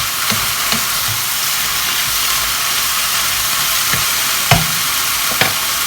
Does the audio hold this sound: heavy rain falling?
no